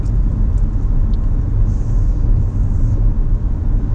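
Steady low road rumble from inside a car cruising along a street in the Rio Grande Valley, Texas, continuous and fairly loud with no breaks.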